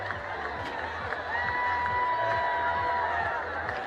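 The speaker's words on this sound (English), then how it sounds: "And the crowd is going crazy." Stadium crowd at a college football game between West Virginia State and UNC Pembroke cheers and roars loudly and steadily, a broad continuous wall of noise with whoops throughout.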